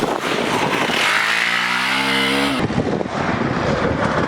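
A Hero Xpulse 200 4V motorcycle skids its rear tyre in a locked-brake slide, a loud engine whine falling in pitch over gritty tyre scrub and wind rush.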